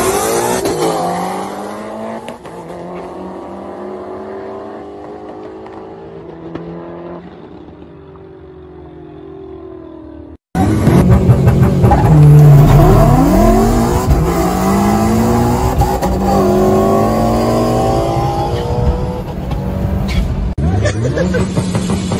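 An Evo and a Ford Mustang launch off the line in a drag race, engines revving loud and close with a sharp rise after a brief cut, tires squealing as the cars pull away, with voices talking over the roar.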